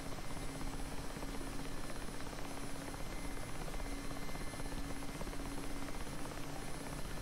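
A Mi-8 helicopter in the DCS flight simulator starts a short rolling takeoff along a runway, a steady rotor and turbine drone with a constant tonal hum, unbroken and without speech.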